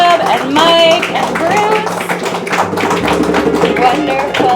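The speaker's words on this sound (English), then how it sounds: "Let's get another round of snaps and applause" Snapping and clapping from a poetry night audience at a gallery, steady and dense under ongoing music with sustained tones, lasting throughout.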